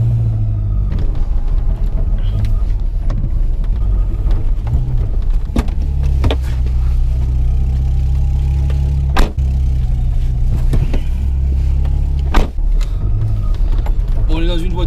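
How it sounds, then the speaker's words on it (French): An old VW Polo G40 drives along, its engine a loud, steady low drone with rattles and sharp knocks from the vibrating cabin, while people talk inside over the noise. "voiture ancienne, c'est assez rustique, donc il y a beaucoup de bruit en fait."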